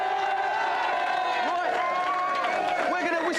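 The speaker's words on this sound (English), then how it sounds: "let's have a big cheer for this team, the Live Wires" A game show studio audience cheers and whoops for a team while a presenter talks over the crowd noise, with a steady roar underneath and scattered shouts on top.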